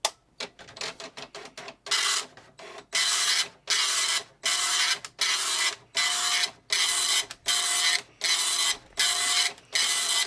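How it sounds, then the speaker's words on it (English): An Epson FX80 dot matrix printer runs its self-test, loud and close, with a buzzy stuttering start and then about nine harsh rasping print passes in a regular rhythm, each separated by a short pause. "if you hold the line feed down while you turn it on, it will do a self-test and a print"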